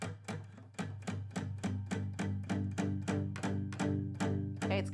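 Palm-muted bass notes on an acoustic guitar, played as a steady run of chunky, thumping plucks that open up slightly as the palm slides back toward the bridge, close and unaccompanied.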